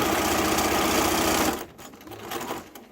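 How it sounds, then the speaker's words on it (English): A sewing machine runs fast and close as it tacks and stitches a fabric mask, giving a steady rapid mechanical chatter for about a second and a half. It then stops abruptly, leaving faint clicks and handling noises. "I'm going to take a couple of stitches, tacking stitches, and then I'm going to stitch to the next pin."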